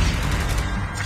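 A brief, loud mechanical clatter of a weapon being reloaded in the Call of Duty video game, a dense metallic rattle lasting about a second with no voices.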